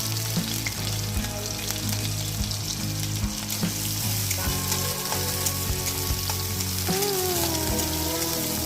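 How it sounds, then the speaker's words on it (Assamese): Chopped onion and garlic fry in hot mustard oil in a wok for a kala bhuna meat dish, giving a loud, steady, close sizzle with crackling spatter that continues unbroken and is heard alone. "এয়া চাওক নহৰুখিনি ভাজি লোৱা হৈ গৈছে।"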